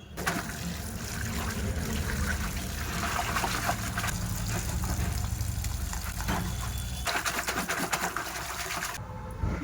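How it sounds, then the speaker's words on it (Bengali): Water trickles and splashes steadily as cut fish pieces are rinsed, running continuously before stopping abruptly near the end. "মাছগুলো সব কেটে নিয়েছি, এবার ধুয়ে নেব।"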